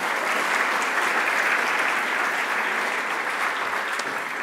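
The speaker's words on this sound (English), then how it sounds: "Let's give him a round of applause." A book-talk audience gives a steady round of applause, a thick continuous wash of clapping at even loudness throughout, with no speech on top.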